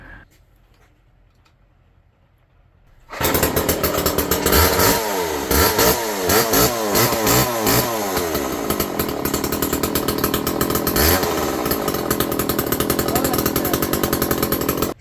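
A vintage Homelite chainsaw sits quiet, then bursts into loud running, its two-stroke engine revving up and down in waves before settling into a steady buzzing roar close by.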